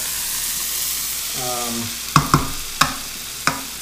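Meat searing in a pan for holiday cornbread dressing, a steady broadband sizzle with a brief stirring scrape and several sharp clanks of a utensil against the pan, close and fairly loud.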